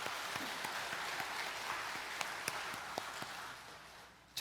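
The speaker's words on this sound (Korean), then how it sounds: "하나님께 영광과 감사의 박수 드립니다." A church congregation applauds during a Sunday worship service, producing a steady wash of clapping at a modest level, with a louder sharp burst right at the end.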